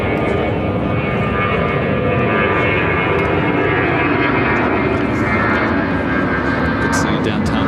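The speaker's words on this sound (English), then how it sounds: "Just had a United 757 land from LAX." A United Boeing 757 touches down at O'Hare after a flight from LAX, a loud, dense, continuous jet engine roar that holds steady for several seconds while voices talk over it.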